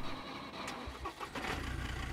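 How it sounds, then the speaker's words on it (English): A truck engine in the survival video game SCUM cranks and catches, sputtering into a low idle with a couple of short revs, fairly quiet and alone. "Time to start up, truck."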